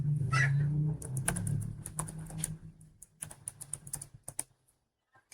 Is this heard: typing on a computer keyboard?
yes